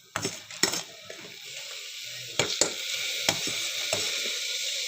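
Dal tipped into a hot pressure cooker, giving a steady sizzle marked by several sharp metallic clinks and scrapes of a spoon against the cooker, close-up with no talk.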